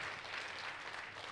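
Congregation at a church service breaks into lively applause, a dense, steady wash of clapping from many people heard throughout the short moment.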